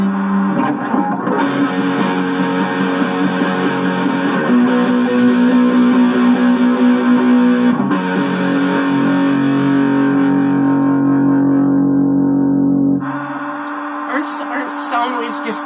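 An Ibanez miKro GRGM21 short-scale electric guitar is played loud through heavy distortion, with sustained ringing chords and held notes that cut off near the end into brief scratchy muted strums.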